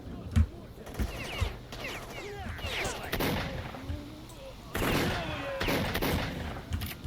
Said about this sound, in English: That bandit shot right through his comrade and killed him.